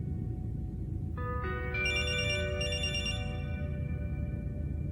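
A phone rings with a bright electronic ringtone that begins about a second in and repeats in steady tonal bursts over a low, constant background rumble.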